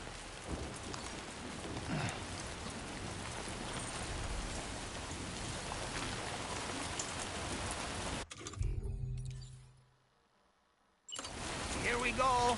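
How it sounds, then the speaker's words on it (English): Steady rain falls in the video game Death Stranding 2, a dense wash of drops on surfaces that runs continuously, then cuts out abruptly into near silence before resuming. "don't think this rain's gonna stop."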